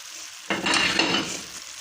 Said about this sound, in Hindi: तो अब मैं इसके अंदर देसी घी डाल लूँ।